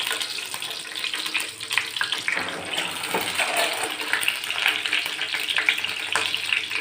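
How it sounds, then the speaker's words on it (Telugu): Steady loud sizzling and crackling of boiled eggs and dried prawns frying in hot oil in a pan, continuous and close throughout with small stirring noises. "దీంట్లోకి బాయిల్ చేసి పెట్టుకున్న ఎగ్స్ని ప్రాన్స్ని వేసి ఫ్రై చేసుకోవాలి"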